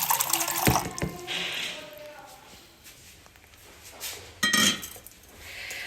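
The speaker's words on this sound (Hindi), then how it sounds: "1 मिनट में पानी ले लूँ।" Tap water runs into a vessel at a kitchen sink while water is fetched for making tea, a splashing stream with clinks of dishes and a brief louder gush, faint speech nearby.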